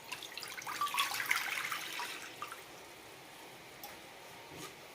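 About one and a half cups of water poured into a pan, a short burst of splashing and trickling that fades after two seconds into quiet with a few faint drips.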